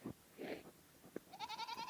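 A goat on a farm gives a wavering bleat that rises and stretches out, preceded by a couple of short rustly thumps, fairly close and alone without talk.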